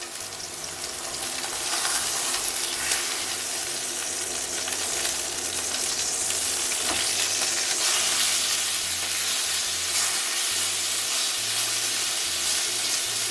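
A sous vide rib eye steak sears in a hot pan with a loud, sustained hiss and sizzle that swells after the meat goes in and holds steady for many seconds, close up and without speech.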